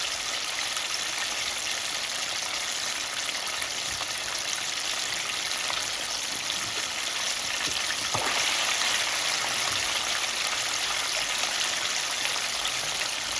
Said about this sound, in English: It's submerged in the oil, cooking very well.